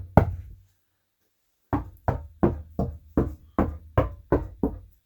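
Someone knocks on an interior wall to test its framing: one knock, a pause of over a second, then a steady run of eight evenly spaced hollow knocks, close and alone.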